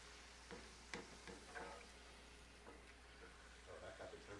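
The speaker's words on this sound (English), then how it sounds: "And they're frying up very quickly." Tortillas fry in hot oil in a pan for tortilla soup, a quiet continuous sizzle with scattered pops and crackles throughout.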